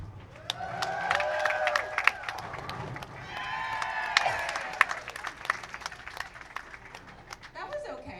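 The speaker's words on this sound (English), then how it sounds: "as soon as she lets go of that ball, please cheer" Cheering and applause from a crowd at a professional women's bowling stepladder final, rising in two swells of shouts and clapping over steady crowd noise, with voices calling out throughout.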